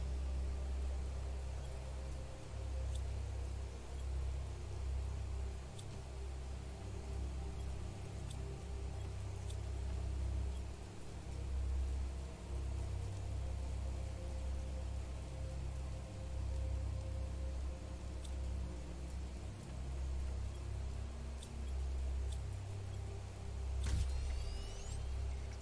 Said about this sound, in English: It is really raining. And it is very loud in my headset here.